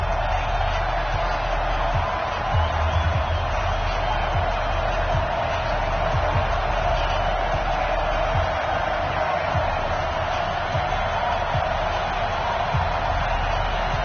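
NFL stadium crowd in a PS4 football video game at Arrowhead before a matchup with the Seattle Seahawks, a steady distant crowd roar that stays continuous and fairly muffled with no clear voices.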